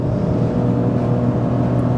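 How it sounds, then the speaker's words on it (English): A Nissan Micra K13 with a 1.2 automatic drones steadily from the cabin as it holds a gear and accelerates, the engine note sustained and fairly loud with no one speaking. "Engine wants to rev, and it's holding on to the gear"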